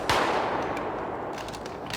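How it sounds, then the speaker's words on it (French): A sharp gunshot cracks at the start, followed by a dense reverberant wash with a few fainter pops trailing off. "Il vient d'y avoir des coups de feu."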